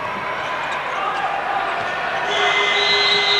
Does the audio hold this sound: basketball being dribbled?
yes